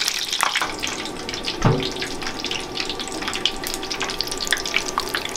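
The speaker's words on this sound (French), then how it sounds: "combien de temps faut-il les laisser dans l'huile chaude, pour ne pas dire bouillante" Stuffed Italian olives frying in hot, near-boiling oil give a steady, dense crackling sizzle with scattered pops, continuous and close, with no voices.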